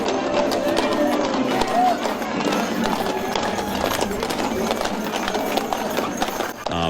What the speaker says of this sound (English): These Clydesdale horses are beautiful